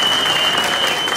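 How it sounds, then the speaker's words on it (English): A comedy club audience breaks into brief, dense applause at a stand-up show, a full wash of clapping heard close and loud. "give her a round of applause"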